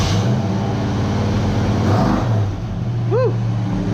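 A 1967 Ford Mustang V8 engine starts and rumbles loudly nearby, a steady low growl with a brief rise in revs, and a short chirping tone near the end.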